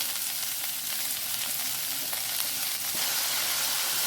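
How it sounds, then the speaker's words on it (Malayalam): Large-cut sliced onions frying with cardamom and cloves in a pressure cooker, a dense, even sizzle close up with faint stirring scrapes, steady throughout and without any voice. "രണ്ട് ഏലക്ക ഒന്ന് രണ്ട് ഗ്രാമ്പു ചേർത്ത് കൊടുത്തു അതിലേക്ക് അരിഞ്ഞു വെച്ചിരിക്കുന്ന രണ്ട് സവാള കുറച്ച് വലുതായിട്ടാണ് ഞാൻ അരിഞ്ഞിട്ടുള്ളത് ചേർത്ത്"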